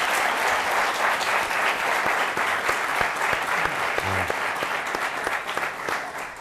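An audience at a televised forum about the Sarajevo Winter Olympics breaks into steady, full applause that runs for several seconds and then slowly thins out.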